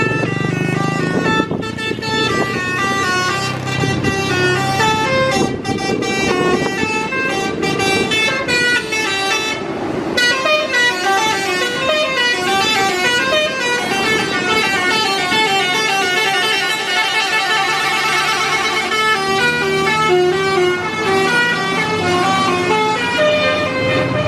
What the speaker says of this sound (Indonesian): Dan kita kedatangan unit Pertamina ya, salah satu unit yang menggunakan telolet ini, buat truk Pertaminanya.